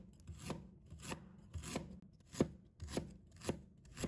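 A knife slices a peeled piece of fresh ginger on a board, about eight crisp, evenly spaced cuts, close and clear with quiet pauses between.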